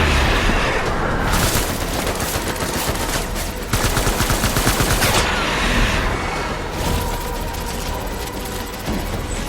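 Gunfire rattles in the Death Stranding video game: loud sustained automatic bursts and rapid shots come in several long waves with brief gaps between them, dense and close.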